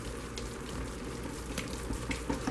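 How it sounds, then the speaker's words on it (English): Tap water runs steadily into a sink while hands are rinsed after mixing a batch of hot process oatmeal, milk and honey soap, a constant close hiss with small splashy bumps and no talking. "Wash my hand off."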